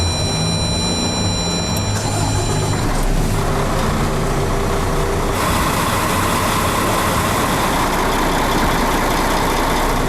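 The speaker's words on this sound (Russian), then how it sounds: "Давайте сейчас запустим мотор." A KAMAZ 5490 truck's diesel engine cranks and catches, then settles into a loud, steady, rumbling idle heard up close, with no talking.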